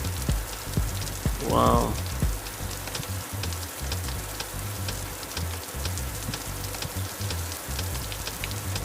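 Steady rain pattering on a car during a rain and hail storm on the road toward Stillwater, a continuous close wash of drops on the vehicle, with a brief spoken exclamation near the start.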